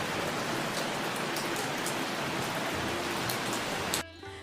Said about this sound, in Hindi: बारिश की धारें बरसने लगी।